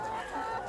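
Young chickens, brought in as day-old chicks, cluck and call on a poultry farm in Kenya, a short, fairly faint burst of fowl sounds with a hint of crowing.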